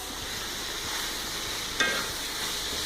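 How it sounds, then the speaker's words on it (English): Shallots frying in leftover sunflower oil in a pan, a steady close hiss and sizzle with a brief clink partway through. "And in the remaining oil I have put the shallots"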